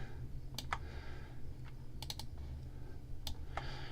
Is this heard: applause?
no